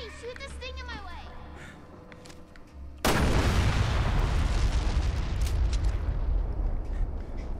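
Gunfire in Resident Evil Revelations 2, a sudden loud sustained burst of shooting and explosive roar that cuts in after a stretch of speech and keeps going, dense and close.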